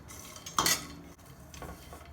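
A spoon stirs nuts frying in ghee in a pan, giving a brief clattering scrape of metal on metal followed by softer scraping over a faint sizzle.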